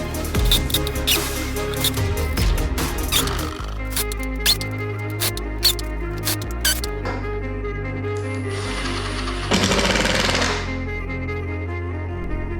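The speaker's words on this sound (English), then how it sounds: "We used an adapter so our impact could drive the lag screws in." Cordless impact driver fitted with an adapter sinks lag screws into wood, giving bursts of rapid rattling clicks and whirring, with quick taps and a louder final run near the end.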